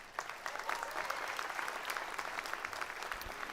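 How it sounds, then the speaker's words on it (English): Graduates and families at a commencement ceremony applaud: a steady, fairly distant round of crowd clapping from a large seated audience, even and continuous throughout. "Give yourselves a round of applause."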